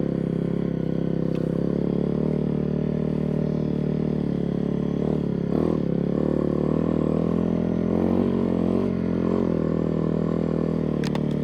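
A 2002 Honda CRF450R dirt bike fitted with a snow kit runs in first gear, its engine a loud, steady drone throughout with small swells in pitch and some scraping clatter near the end.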